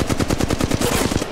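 Rapid automatic gunfire in the mobile battle royale game Apex Legends Mobile, a loud, close, continuous burst of evenly spaced shots lasting over a second.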